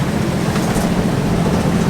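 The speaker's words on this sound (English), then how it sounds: "You can probably hear we've got the engine running now" Sailboat engine running at sea after squalls, heading straight into the wind, a steady loud low drone with broadband hiss from wind and water, no talking.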